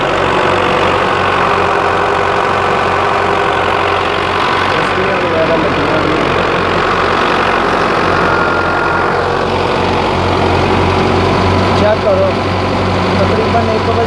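A Belarus 510 tractor engine runs steadily nearby during threshing season, a continuous loud diesel idle with low rumbling pulses and mechanical knock, while people talk over it.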